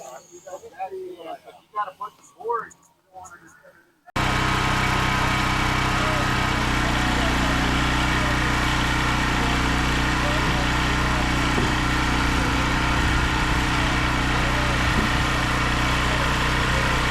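A tractor engine idles and runs steadily at close range, a continuous loud drone with a low hum, following a few seconds of quieter talk and clatter before it starts.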